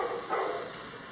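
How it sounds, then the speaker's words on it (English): Dog barking played back through a speaker: one short, faint bark with a slightly tinny, distant quality. "it sounds like the barking is coming from a literal speaker"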